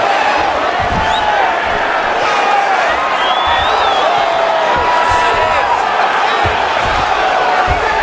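A UFC fight crowd keeps up a sustained roar of cheers and yells as grappling fighters return to their feet, loud and unbroken, with individual voices rising through the dense arena noise and a voice speaking over it.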